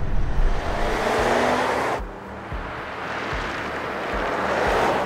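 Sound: Mercedes GLA 2017 engine noise while driving

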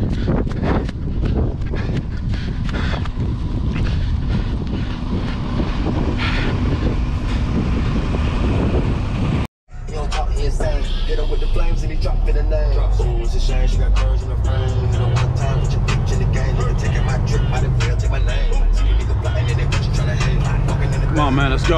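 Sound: car driving and accelerating in snow

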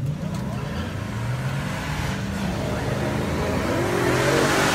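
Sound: drag race cars accelerating down the track

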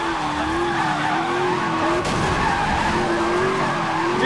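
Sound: car drifting with tires skidding in NFS Most Wanted video game

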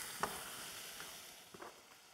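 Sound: bacon frying in a pan

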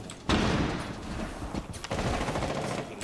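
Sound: gunfire in a gun battle, from the video game Rainbow Six Siege

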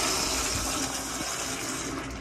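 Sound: American Standard toilet flushing

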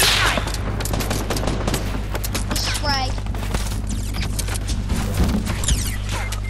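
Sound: gunfire in a video game squad match

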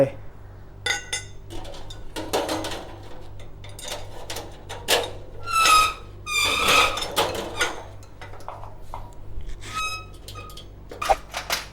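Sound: fitting metal legs onto a Coleman charcoal grill

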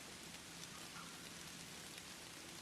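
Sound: rain falling in the video game Sakura School Simulator

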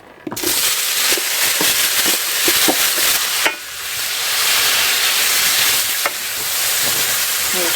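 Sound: fish frying in a pan

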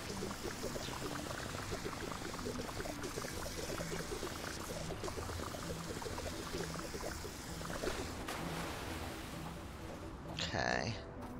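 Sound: water being poured in video game Fresh Start Cleaning Simulator

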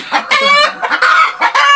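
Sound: chicken clucking

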